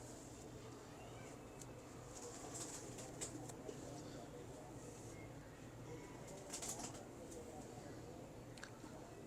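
Pigeons of a breed that tumbles and rights itself on the second or third turn, kept in a loft with a pair, coo faintly in the background over a steady low hum and some scattered chatter.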